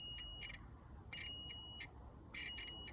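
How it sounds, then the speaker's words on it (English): Multimeter continuity tester beeping as its probes touch, three short bursts of high-pitched tone over a faint background hiss, quiet and fairly close. "if you want to test continuity, you can put your two connectors together and listen for the tone."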